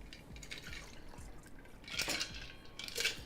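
Vodka pours into large martini glasses, giving faint liquid trickles and drips with a couple of brighter splashing bursts near the end, in a quiet home kitchen.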